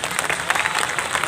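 An audience at a 30th anniversary stage event for the Karinthalakoottam troupe applauds, a dense burst of many hands clapping at once, loud and continuous throughout.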